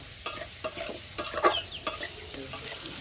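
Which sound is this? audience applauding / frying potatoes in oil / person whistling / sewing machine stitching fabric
frying potatoes in oil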